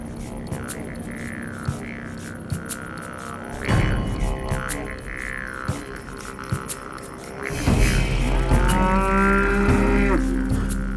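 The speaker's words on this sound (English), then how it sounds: "Although the cattle can find food by grazing vast areas, to survive in the outback they also need plenty of water." Cattle in the Australian outback lowing loudly and close by, several long drawn moos overlapping across the stretch, with a deep bellow rising near the end over steady ambient background.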